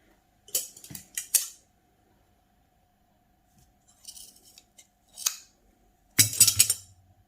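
Scissors cut fabric for capri trouser ankles in a few separate bursts of crisp snipping, close and clear with quiet pauses between them, no talking.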